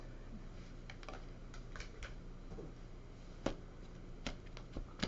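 A computer keyboard and mouse click in scattered, faint taps and clicks at close range against a quiet background hiss, with a few sharper clicks near the end.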